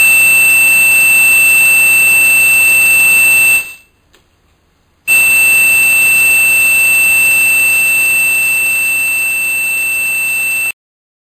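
Loud steady electronic test tone played to make couscous resonate on a steel plate, a sustained piercing pitch that cuts out for about a second and then resumes before stopping abruptly.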